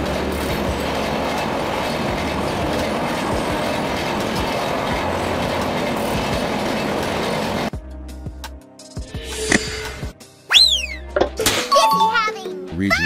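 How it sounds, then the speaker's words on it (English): A double-decker train rolls along with a steady rumble that cuts out partway, followed by sharp squeals and clunks; a voice is heard speaking. "Double-decker train."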